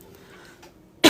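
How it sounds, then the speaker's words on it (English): A single sharp cough bursts out at the very end, loud and close, after a second of near silence with faint room noise. "I'm gonna take a sip here so I hopefully stop coughing"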